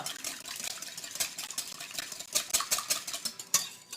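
Pumpkin waffle batter with melted butter whisked briskly in a bowl, rapid metallic clicks of the whisk against the sides, fairly quiet and close, no voices.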